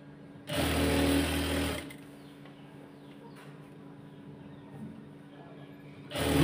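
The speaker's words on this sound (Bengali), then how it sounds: "তারপরে মেশিনে দিতে হবে গাইটে। এখন আস্তে আস্তে সেলাই করতে হবে।" A sewing machine stitches pajama fabric in one steady whirring run of about a second, fairly close, then stops and leaves a quiet room before starting again at the very end.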